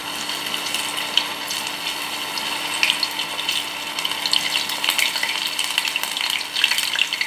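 Cauliflower pieces deep-frying in hot oil make a loud, dense, continuous sizzle and crackle throughout, heard close up with no speech.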